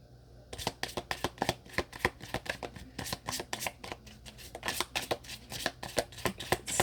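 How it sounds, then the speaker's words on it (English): A deck of love oracle cards being shuffled by hand, a rapid run of crisp riffling flicks and taps repeating steadily and close, with no talk. "let's pull a love oracle card"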